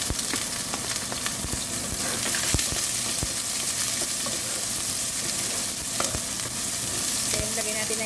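Onions sizzle and fry in a pan, the first step of a home-cooked Filipino afritada. A continuous loud crackle runs throughout, with occasional sharp pops and stirring clicks, and no talking.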